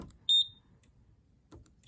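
A Simplex 4007ES fire alarm panel sounds a false alarm as sharp electronic beeps, one clear tone early and another cut off at the end, with faint clicks and quiet room noise between.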